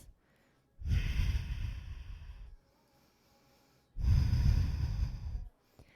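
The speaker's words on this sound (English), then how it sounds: "2 more breaths." Two long, deep yoga breaths come close to the mic, each a loud airy rush lasting a couple of seconds, separated by a short near-silent pause.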